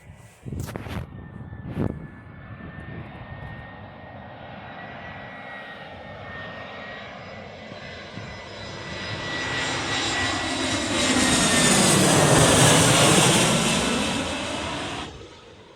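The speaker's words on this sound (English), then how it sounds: "our aircraft that is actually landing, well, coming up is an A319 from EasyJet" An EasyJet Airbus A319 coming in to land, engines droning steadily at first, then swelling into a loud, rushing roar as the airliner passes close overhead and fades slightly, with a few sharp knocks near the microphone early on.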